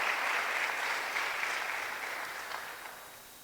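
Church congregation applauding during a Spanish-language sermon, a steady wash of many hands clapping at moderate distance that slowly tapers off.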